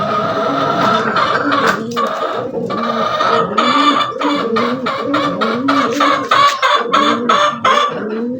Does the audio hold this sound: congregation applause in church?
no